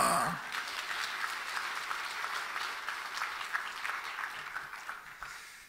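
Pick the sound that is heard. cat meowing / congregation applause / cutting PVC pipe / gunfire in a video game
congregation applause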